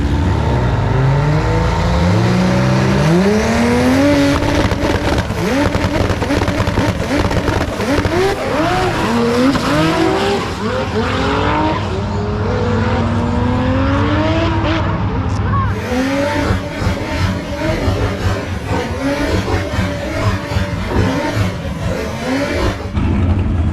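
A 2JZ-powered drag race car launches at a drag strip, its engine revving hard through rising and falling sweeps with tire squeal, loud and close, then continuing to roar as it pulls away.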